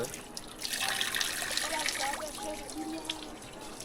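Spring water trickles and splashes steadily at a natural source in Congo, a continuous broadband watery hiss with people talking over it throughout.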